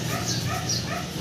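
A pet dog with mange during bath time gives soft whimpering, yipping sounds, close by over a steady background hiss.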